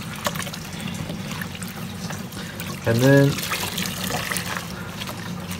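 A bundle of natural virgin hair being washed by hand in water with shampoo, giving a soft steady swish and slosh of liquid with a brief splashy surge midway, under a person talking.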